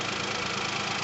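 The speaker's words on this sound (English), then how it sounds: "So this is what it sounds like on tick over." A 2018 Hyundai Kona Premium SE with a turbocharged 1.0 T-GDi petrol engine idles steadily, a continuous close mechanical hum with no talking over it.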